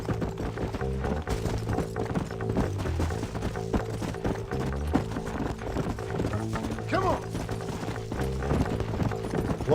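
Horse hooves gallop in Red Dead Redemption, a steady clip-clop rhythm under game music and someone talking.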